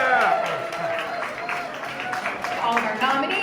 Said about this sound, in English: Let's give one big round of applause for everyone who was involved tonight.